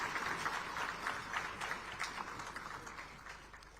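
Applause from an audience in a legislative assembly hall, a dense, even patter of many hands clapping, sustained and moderately distant with a slight fade toward the end.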